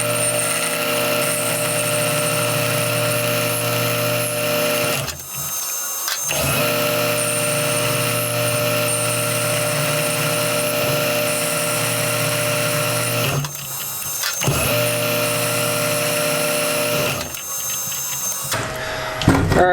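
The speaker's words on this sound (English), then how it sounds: "I'm going to try just turning it down the lathe really quick" A lathe turns down a thin length of all-thread rod with a steady, loud machine whine and hum, broken by three short pauses where the sound drops away before resuming.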